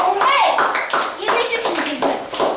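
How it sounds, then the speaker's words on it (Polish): Scattered clapping from a group, with children among them, at a classroom robot activity, uneven bursts of hands mixed with lively talking voices over the top. "Brawa dla pomarańczowych."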